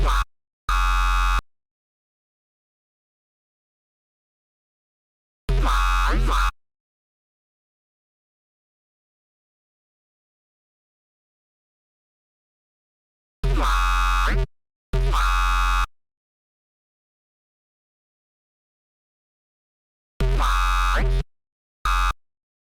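A synth patch built in Serum 2 sounds in four separate bursts, some doubled, each a bright, buzzy, harmonically rich tone that cuts off sharply into silence between hits.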